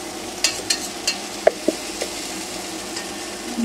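Okra frying in a pan at medium heat, a steady close sizzle broken by a handful of distinct stirring clicks and scrapes, with no voices.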